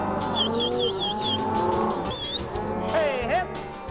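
Cattle low at a ranch during branding, several drawn-out moos overlapping near and far, with higher bird chirps and a passing vehicle rumble in the background.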